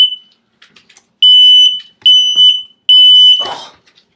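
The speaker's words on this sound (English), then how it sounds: "and the smoke alarm has gone off." A smoke alarm in a home kitchen going off while a frozen pizza cooks, sounding as a piercing high electronic beep in three long bursts separated by short gaps, followed by a brief rustling clatter.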